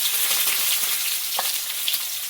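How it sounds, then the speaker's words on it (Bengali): Leafy greens fry in hot oil with dried chili and garlic, giving a steady, close, broadband sizzle with faint crackles and no talking. "পাশে একটু শুকনো লঙ্কা তেলের মধ্যে শাকটা চাপাবো"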